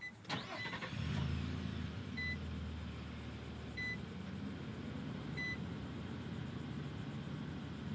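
A Nissan Frontier Pro-4X pickup's engine is started by push button, with a brief crank and catch followed by a low steady idle, while a soft chime beeps at regular intervals inside the cab.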